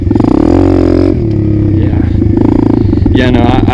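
An Apollo DBX-18 pit bike engine revving hard during a clutch dump, loud and close with a throbbing buzz that rises and falls, while a person talks over it.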